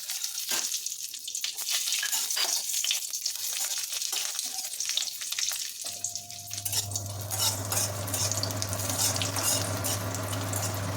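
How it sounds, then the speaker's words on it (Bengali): Cashews and raisins frying in ghee for semolina barfi, a loud continuous sizzle and crackle close by, with stirring scrapes throughout and a steady low hum joining partway through. "ঘি দেওয়ার পরে তারপরে কাজু কিশমিশটা ভেজে নিতে হবে"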